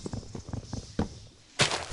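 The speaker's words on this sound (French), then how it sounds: "Désolé pour les bruits de pas des chiens" A quick series of light, rhythmic dog footsteps in Minecraft patters along, pauses briefly, then a louder burst of noise follows.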